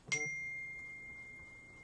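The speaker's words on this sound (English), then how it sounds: "we're going to start getting dings on the phone" A single bright notification ding from a phone rings out close by, its clear tone lingering and slowly fading over a quiet room.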